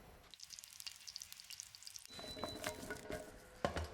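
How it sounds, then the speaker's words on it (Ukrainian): Eggplant pieces frying in a pan, a steady close sizzle with crackling oil pops that grows louder and denser partway through, with no voices. "Нам не потрібно баклажани обсмажувати повністю, нам потрібно дати їм скоринку"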